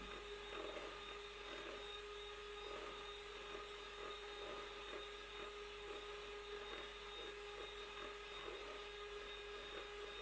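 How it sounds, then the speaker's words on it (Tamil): Electric beater whipping chocolate sponge cake batter to a foam, a faint continuous motor whine with a steady tone and soft rhythmic churning pulses, no talking. "நல்லா ஃபோம் வர அளவுக்கு நம்ம பீட் பண்ணி எடுத்துக்கலாம்."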